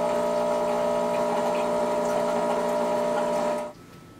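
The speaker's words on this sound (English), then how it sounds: "run some water through the group as well" A Rancilio Silvia single-boiler espresso machine's pump hums loudly as it pushes rinsing water through the group head, a steady whirring drone that cuts off abruptly near the end.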